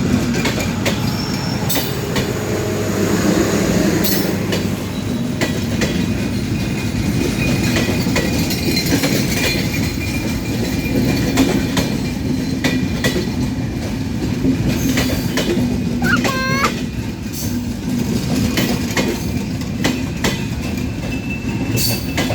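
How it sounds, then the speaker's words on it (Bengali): A train rolls past close by on the rails, with a continuous rumble, rhythmic clickety-clack from the wheels and a brief wheel squeal, running steadily for about twenty seconds with no one speaking. "দেখো দেখো দেখো দেখো ট্রেন আসছে"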